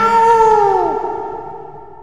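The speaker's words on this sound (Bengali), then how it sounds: "বিড়ালের বিকট চিৎকার," A single loud cat screech, a drawn-out wailing yowl that bends downward in pitch and trails off with a fading echo, heard alone.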